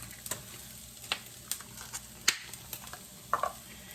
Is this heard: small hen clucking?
no